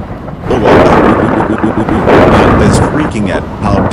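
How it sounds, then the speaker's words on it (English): Thunder from a thunderstorm rumbles loudly and almost continuously through the clip, with several voices talking over it in an animated setting. "we can't help it if the thunderstorm is scaring us"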